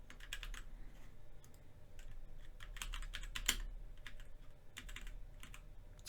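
Fingers type on a computer keyboard in quick bursts of clicky keystrokes with brief pauses between, close and fairly quiet, with no voices.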